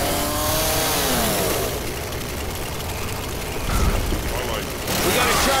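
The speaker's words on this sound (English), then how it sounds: "Got a chainsaw." A chainsaw revs loudly and continuously in Left 4 Dead 2 gameplay, a buzzing engine roar that rises and falls and is mixed with game noise and voices.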